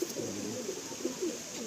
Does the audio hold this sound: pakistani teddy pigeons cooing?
yes